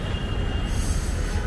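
A Delhi metro train at Nirman Vihar station, its wheels grinding and squealing on the rails in a steady, loud rumble with a brief high screech partway through.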